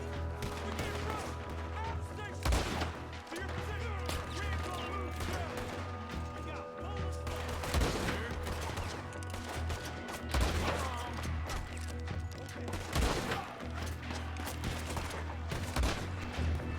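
Rapid gunfire in Red Dead Redemption II, sharp repeated shots and bursts crackling over a steady background score, with someone talking over the action throughout.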